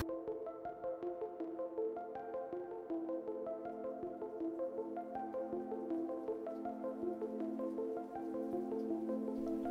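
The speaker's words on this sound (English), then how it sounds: "Don't mind us, we just out here filling water." Water from a high-pressure hose runs into a van's tank, giving a steady pattering, dripping splash with a sustained ringing, rising tone as the tank fills, close and continuous.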